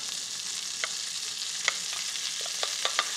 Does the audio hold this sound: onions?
yes